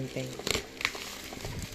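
Plastic packaging around a new Astron blender crinkles and rustles in quick bursts, close by and loud in short sharp crackles over a noisy background.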